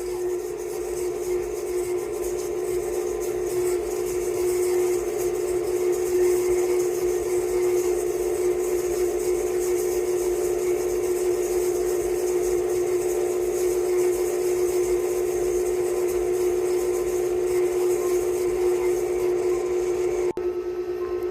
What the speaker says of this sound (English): we're just going to mix this on high until it's creamed